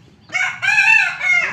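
A rooster crows loudly and close by in a village farmyard kept with ducks and chickens: a single long, ringing crow in several rising and falling segments over a faint low background hum.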